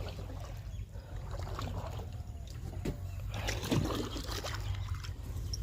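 A boat moves across water in the morning, with a steady low rumble and a constant wash of water. Soft trickles and splashes come and go throughout.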